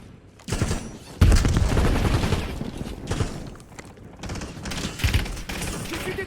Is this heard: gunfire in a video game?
yes